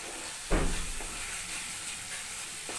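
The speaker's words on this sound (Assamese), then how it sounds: "এই মছলাখিনি ভালকৈ ভাজিলে" Spices frying in a pan for a meat dish: a steady broadband sizzle with a sharp burst of hiss near the start, then continuous crackling fry at moderate loudness, no voices.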